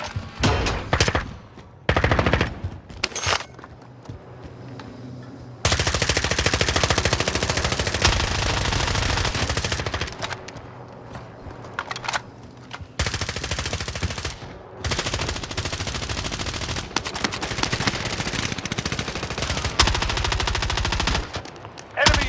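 Heavy automatic gunfire from a Call of Duty: Modern Warfare match: long, dense bursts of rapid shots, loud and close, broken by brief pauses and continuing for over twenty seconds.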